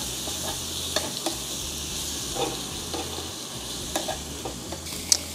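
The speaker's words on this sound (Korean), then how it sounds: "아 여러분 갈비 들어갑니다" Pork galbi ribs sizzle on a grill at a Korean barbecue restaurant in Ulsan, making a soft, steady frying hiss dotted with small pops and crackles.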